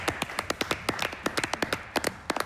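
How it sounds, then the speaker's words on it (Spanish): Sharp, scattered hand claps from a small group, uneven in rhythm and fairly close, with no voices. "señor Jorge Gandini Astesiano, para quien pido un fuerte, pero muy fuerte aplauso"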